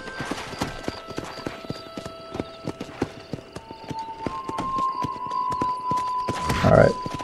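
Steady clip-clop of horse hooves walking at an even pace in the video game Red Dead Redemption, with a brief horse snort or whinny near the end over background game music.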